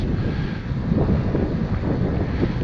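Wind buffets the microphone during an outdoor flight of an RC Cessna TTX model airplane, a steady low rumbling roar with no talking.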